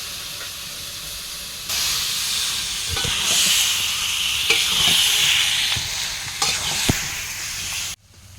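Chicken added to spiced masala in a pot over a wood fire, a loud steady hissing sizzle with occasional stirring knocks, close up, cutting off abruptly at the end.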